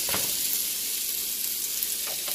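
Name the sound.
stirring rice in a pot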